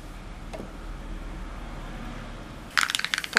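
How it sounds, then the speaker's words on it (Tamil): Mustard seeds splutter in hot oil while making brinjal pickle: a low background hum, then a quick cluster of sharp, crackling pops near the end. "இந்த எண்ணெயிலே கடுகு"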